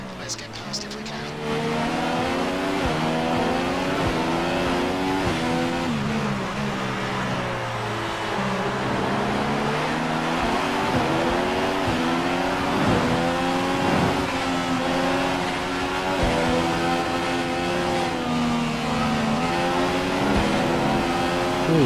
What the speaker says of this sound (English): See that overtake.